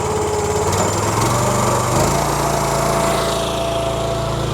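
A Wolfe Ridge Wolf Pack hydraulic power unit engine runs loud and steady up close, a constant mower-like roar that fills the whole stretch without pause.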